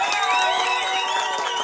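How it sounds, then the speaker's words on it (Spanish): Crowd at a Spanish-language rap battle final cheering, whooping and clapping, with loud, continuous shouts and whistles filling the short burst. "Quiero un fuerte aplauso para esta batalla."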